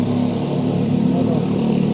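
Motorcycles of street racers revving on an open public road before dawn, a steady loud engine drone with rumbling low tones running throughout, mixed with road noise.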